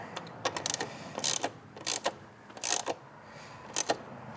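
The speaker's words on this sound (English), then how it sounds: "I'm just gonna snug that up again with the 8mm" A ratchet snugging an 8mm clamp on the charge pipe of a 2015-2020 Subaru WRX gives several short, close bursts of quick metallic clicking, separated by brief pauses.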